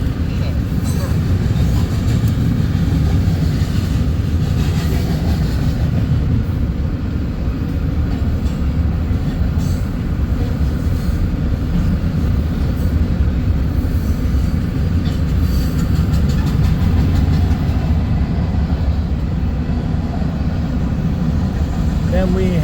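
A long freight train rumbles steadily past close by, its mid-train DPU locomotive rolling through with continuous heavy wheel and rail noise, faint squeals and clatter, under occasional quiet speech.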